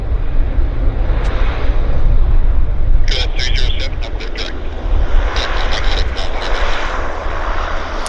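Airplane landing at Vancouver Airport during evening arrivals, a steady broad engine roar that stays loud throughout, with a brief high whine partway through.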